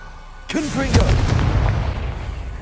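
Casting the Confringo fire spell in Hogwarts Legacy sets off a sudden loud blast, followed by a crackling, roaring burst that lingers and slowly fades, with a brief voice-like sweep at the start.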